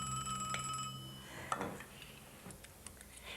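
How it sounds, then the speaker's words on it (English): A telephone rings faintly indoors with a bright electronic trill for about a second, then falls silent, leaving only soft background clicks. "Your phone is ringing."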